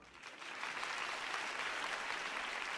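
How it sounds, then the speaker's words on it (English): Crowd applause from a clapping animation in Batman: The Telltale Series swells in after half a second and holds as a dense, steady patter of many hands. "Those, like, clap animations together, look really laggy."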